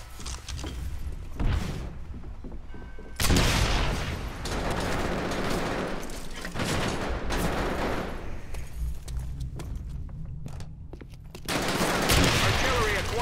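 Artillery and gunfire in the video game World at War: dense bursts of rapid shots and heavy booms, loud and close, with short pauses between volleys.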